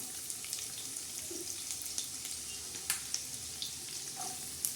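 Onion and green chillies fry in oil in a kadhai, a steady bright sizzle with faint scattered pops and crackles, close and continuous with no voices.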